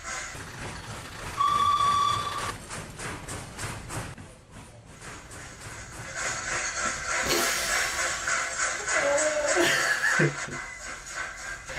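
Steam train whistle in a staged mock train scene, a sustained high tone sounding twice among rumbling, clattering rail noise, with brief faint talk over it.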